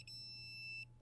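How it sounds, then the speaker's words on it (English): A digital torque wrench on a 2015-or-later S550 Mustang exhaust H-pipe bolt, set to 18 foot-pounds, gives one short high electronic beep, faint and close, with no talk. "we'll come back with our torque wrench, and we want to torque it down to 18 foot-pounds"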